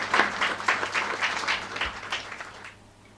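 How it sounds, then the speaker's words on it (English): Applause breaks out among guests at a lobby ribbon-cutting ceremony, a scattered round of clapping that stays moderately close for a few seconds and then fades out toward the end. "They deserve a round of applause."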